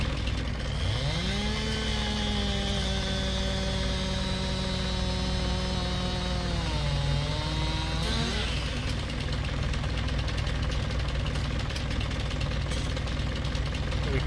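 A chainsaw in a farming simulator game starts up and revs in a steady, loud drone for several seconds, pitch dipping near the end before it cuts to a rougher low rumble over constant background engine hum.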